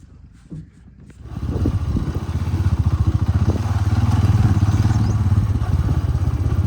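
A motorcycle accelerates on a village path near a river, its engine rising quickly from quiet into a loud, steady, pulsing roar that holds close by, with no speech.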